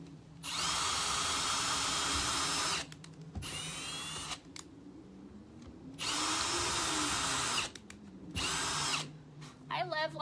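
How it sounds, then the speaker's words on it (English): A power drill pre-drills holes in a wooden shutter, running in two long loud bursts with a shorter one between, each winding up and cutting off sharply against quiet room noise. "let me just pre-drill the holes here."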